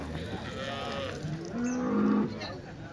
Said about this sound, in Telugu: ఒక రెండు ఆవులు అయితే ఉన్నాయండి